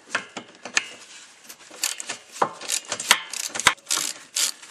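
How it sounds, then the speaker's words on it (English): Hand ratchet tightening an exhaust hanger bolt on a 1999 Jeep Cherokee during a Walker cat-back exhaust install, a close run of irregular clicking and metallic rasps in short bursts, no talking. "Just using my favorite ratchet again."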